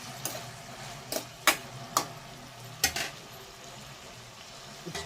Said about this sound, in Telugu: నెక్స్ట్ గరిటెతో మనము బాగా అన్ని కలిసేలా కలుపుకోవాలి.